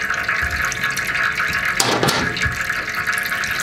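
Fluid pours steadily from a 1979 Toro 826 snowblower with an 8 hp Briggs & Stratton engine, a close, continuous splashing trickle with a brief louder gush partway through.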